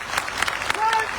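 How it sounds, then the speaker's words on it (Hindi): A seminar audience claps in scattered, light applause, with a voice talking over it throughout. "ताली तो बजा दो।"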